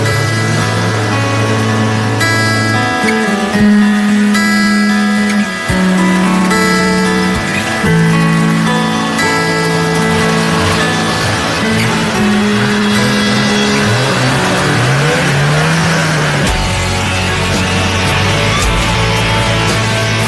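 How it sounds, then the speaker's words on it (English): A vehicle engine throttles up while cruising across untouched snow powder in the mountains of Hokkaido, Japan: a loud, continuous close-up drone that rises and falls in pitch as the throttle opens and eases, running steadily throughout. "It felt great to open up the throttle for one final cruise across untouched powder."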